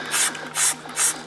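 A trigger spray bottle mists car interior cleaner onto the white side of a scrubbing pad in three quick, evenly spaced hissing bursts, close and fairly quiet with no talking.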